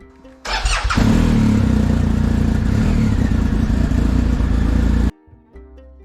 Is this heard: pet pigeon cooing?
no